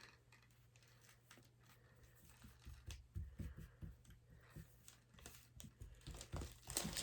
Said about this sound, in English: I'm going to start layering the toilet paper.